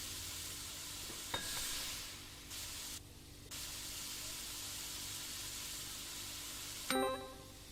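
Fish frying in the cooking game Creature Kitchen: a steady, fairly faint sizzle runs throughout, broken by a couple of short metallic dings and a brief pause, with no voices.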